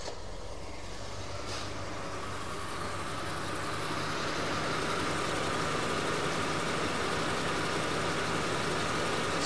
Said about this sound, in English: These engines, this car still has its stock exhaust. And these engines are so quiet from the factory.